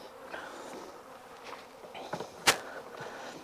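Honeybees buzzing in an opened hive box during an early spring inspection, a faint, steady hum under light handling noises and one sharp click.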